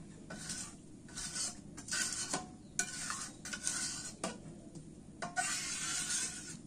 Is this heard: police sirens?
no